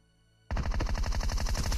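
Sudden burst of rapid automatic gunfire in a battle royale video game, rattling loud and fast for over a second after a quiet start, with no voices over it.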